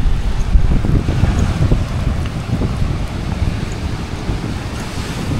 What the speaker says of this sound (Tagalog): ang lakas ng hangin, no? Lakas. Grabe yung alon.